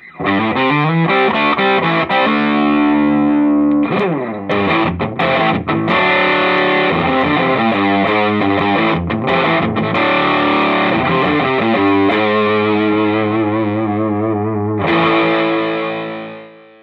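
An electric guitar played through a multi-wave distortion pedal, loud and buzzy with sustained fuzzy chords and shifting notes that ring out and fade at the end.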